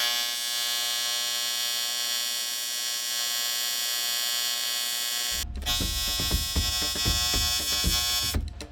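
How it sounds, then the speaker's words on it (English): TIG welding a new port onto a two-stroke YZ500 dirtbike engine, with the old hole blanked off: a steady electrical hum for several seconds, then a louder crackling buzz with dense irregular sputtering and a sharp break near the end. "With the old hole blanked off now, I could weld the new port on."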